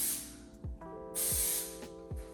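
Hairspray hisses from an aerosol can onto hair in short bursts, several quick sprays close by with brief gaps between them.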